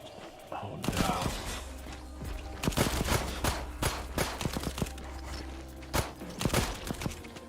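Robots firing guns in the Mars survival game Memories of Mars, heard as a run of sharp, irregular shots and short bursts over a steady low hum, fairly close and loud, with a voice talking now and then.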